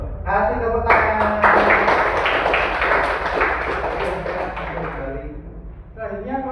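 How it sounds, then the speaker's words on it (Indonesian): Students in a classroom clap together in a loud, close burst lasting several seconds, with voices before and after it. "Kasih tepuk tangan."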